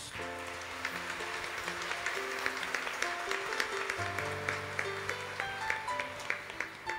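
Congregation clapping during a Catholic homily, a steady moderate patter of many hands over a held organ or keyboard tone, somewhat distant in a reverberant space.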